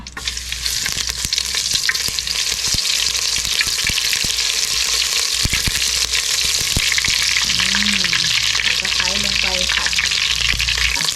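Oil sizzles and crackles steadily in a hot pan throughout, a loud continuous fry with occasional clinks of utensils and brief background chatter, while an Akha home cook prepares a dish.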